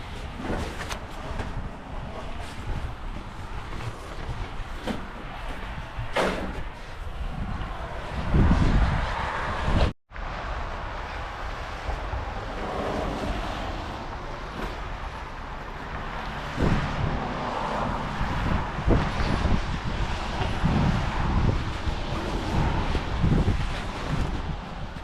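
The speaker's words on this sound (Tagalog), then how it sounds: "Tapos ang lakas ng hangin" Strong wind roars across the microphone during a Canadian snowfall, a loud, gusty buffeting rush that swells and dips, cuts out briefly midway, then returns at full force.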